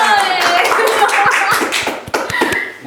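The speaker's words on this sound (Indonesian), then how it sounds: "Tepuk tangannya dulu dong." An audience claps at a studio talk show, with brisk, scattered hand claps running throughout and voices talking over them.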